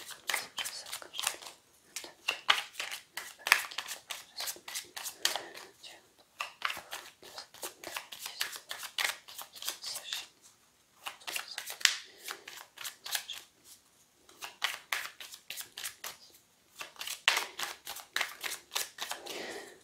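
A deck of cards is shuffled by hand before being cut, making a long run of quick, dry papery flicks in steady bursts with short pauses, close and fairly quiet.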